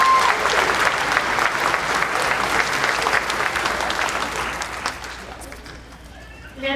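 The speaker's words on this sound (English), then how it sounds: "Give yourselves a round of applause." Audience applause at a U.S. citizenship naturalization ceremony, a loud dense burst of clapping from a large crowd that holds steady for several seconds, then thins and fades.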